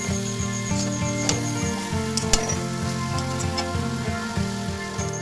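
Boiled cabbage sautéed with turmeric in a pan gives a steady close sizzle, with a few faint clicks and scrapes of stirring over a low background hum.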